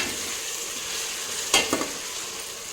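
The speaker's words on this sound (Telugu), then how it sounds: "ఇప్పుడు కొంచెం కొత్తిమీర, పుదీనా వేసేసి కరివేపాకు కూడా వేసేసి ఈవెన్గా ఫ్రై అయ్యేటట్టు ఫ్రై" A paste with coriander, mint and curry leaves fries in a pan for a vegetable biryani, giving a steady close sizzle with a couple of quick spatula scrapes in the middle.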